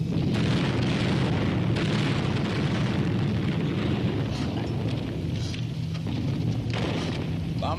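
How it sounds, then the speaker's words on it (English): Aerial bombs bursting below after release from a WWII bomber, a sustained rumbling barrage of booms and crackling explosions that runs loud and continuous over the heavy drone of aircraft engines. "Bombs away!"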